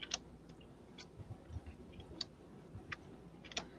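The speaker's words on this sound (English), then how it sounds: "y'all heard me shuffling" A deck of tarot cards being shuffled, giving faint, scattered crisp clicks and riffles at an irregular rhythm over a quiet background.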